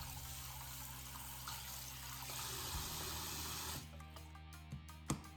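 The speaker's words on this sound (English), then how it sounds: "Egg under the running water." Tap water runs steadily over a freshly boiled egg to cool it, a close, hissing stream for several seconds that then stops, followed by a few light knocks.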